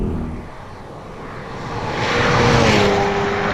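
Hyundai Veloster N engine drops in revs on the shift from second to third gear, then pulls again with a building, loud interior drone and no talk.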